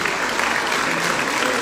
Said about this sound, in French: Vous applaudissez Andros, s'il vous plaît. Très fort.